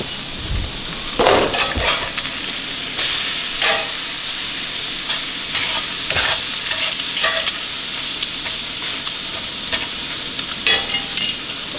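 Burger patty frying in a hot pan, a steady close sizzle with sharp crackles and pops scattered throughout, no voices.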